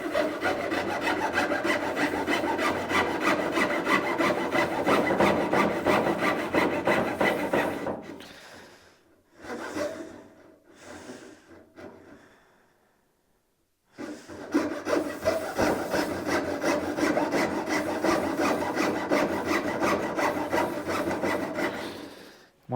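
A hacksaw bites into a wooden bed board on a 1980 Dodge Stepside pickup, giving loud, steady rasping strokes that pause briefly with a few scattered scrapes before the sawing resumes, with no voices.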